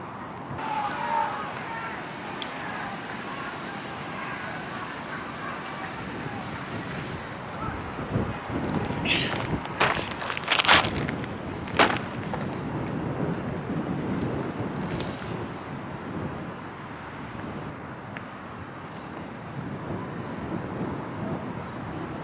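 Wind blows outdoors into the microphone in a continuous rough rumble, with several louder gusts and buffeting bursts near the middle before settling back to a steady roar.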